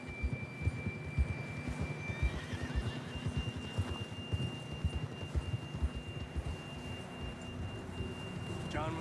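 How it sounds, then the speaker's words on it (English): Horse in the video game Red Dead Redemption 2, with a whinny rising over steady hoofbeats and ambient outdoor game sound, plus a thin sustained tone across the clip. "John was riding that horse when we left Blackwater."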